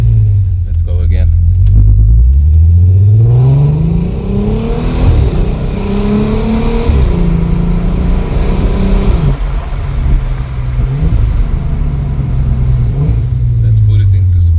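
VW Caravelle T5 R36 engine revving through paddle-shift gear changes inside the van, pitch climbing and stepping with each shift, then settling to a steady drone, loud and close.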